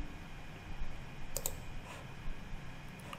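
A computer mouse button clicks once or twice, sharp and close but quiet, against a low hum of room noise.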